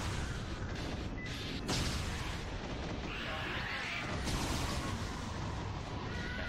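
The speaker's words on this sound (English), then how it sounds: "But we don't get hit by the explosions or die." Explosions and gunfire-like booms from the action game Yakuza: Dead Souls, a dense continuous roar of blasts with sharp bursts layered throughout, loud and sustained with no talking.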